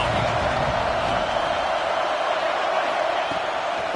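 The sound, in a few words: stadium crowd cheering on third down, from a video game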